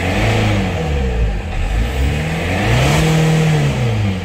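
Diesel engine of a Chevrolet Captiva, long unused, revving up to about 4500 rpm and back down, with loud sweeping rises and falls in pitch, close and continuous with no talk.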